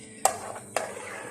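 A spoon stirs red currant juice in a small saucepan on a stovetop over low heat, with two light metallic clinks against the pan above a soft steady background.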